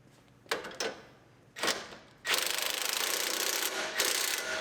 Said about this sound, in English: Tighten up our sway bar link.